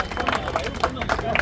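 Clapping from a crowd at a Haryana-style public gathering, scattered and fairly close, mixed with a steady babble of voices as people talk over it through the short burst.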